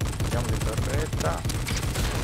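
Rapid automatic fire from a turret-mounted machine gun in a single-player shooter match, a dense steady burst of repeated shots lasting throughout, loud and close, with a voice talking over it.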